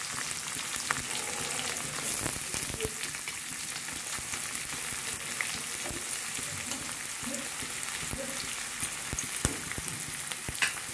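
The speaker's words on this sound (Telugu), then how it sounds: "సైజ్ రెండు ఆనియన్స్ కట్ చేసుకొని పెట్టుకున్నాం కదండి, అవి కూడా వేసేసుకొని ఫ్రై చేసుకున్నాము" Sliced onions and curry leaves fry in a pan with a steady, bright, crackling sizzle that runs without pause, close up and with no voices.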